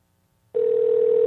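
A Skype call rings out: after a brief quiet moment a loud, steady electronic ringing tone starts abruptly and holds to the end.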